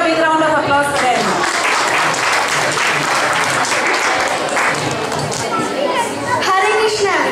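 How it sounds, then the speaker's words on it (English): Audience applause follows a children's drama at a Janmashtami Vedic cultural program, a dense, continuous clapping that swells then tapers, with children's voices and chatter mixed in. "Please give a big round of applause to them."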